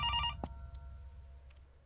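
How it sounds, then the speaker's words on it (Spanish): A telephone rings in the horror video game Infliction, a short electronic bell tone that fades out over a low rumbling background, with a faint click following. "¿Teléfono?"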